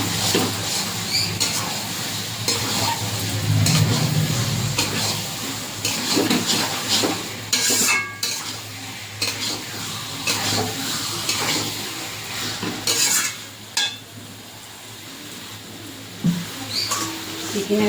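Raw chicken pieces, rubbed with salt, turmeric and raw oil, drop into hot oil for a chicken kasha and sizzle in a steady, close crackle that runs throughout, with brief louder spits and stirring clatter along the way.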